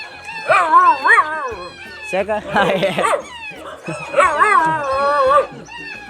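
A dog yelps and whines in rising, wavering cries, with short barks in between, close and fairly loud, with a brief spoken word.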